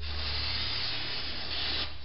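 Bar and tar remover hisses steadily from an aerosol can, sprayed continuously onto an RC truggy being cleaned, with a close, even spray lasting a couple of seconds and no voices.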